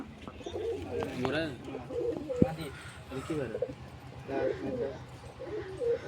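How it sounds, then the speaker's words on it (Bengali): Pigeons cooing in a loft where they are kept for sale, soft repeated coos under steady background murmur, with a person talking over them. "এটা সিঙ্গেল কবুতর এটা কালদমা নড়"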